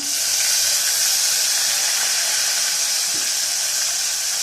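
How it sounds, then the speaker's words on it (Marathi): Curry leaves and chillies crackle and sizzle in hot oil, a steady, bright, close hiss that holds evenly for a few seconds without speech. "त्याच्यानंतर थोडा कढीपत्ता टाकेल आणि मिरची"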